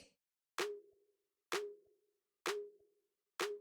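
Layered clap from a drum clap and a short chopped synth loop slice, hitting four times at an even pace, each a sharp bright burst with a brief tonal ring tailing off into silence.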